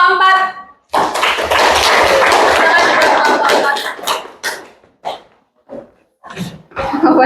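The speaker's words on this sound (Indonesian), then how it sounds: "tepuk tangan untuk kelompok" Students in a classroom applaud a group with a dense burst of clapping that lasts a few seconds, then thins into a few scattered claps and small sounds.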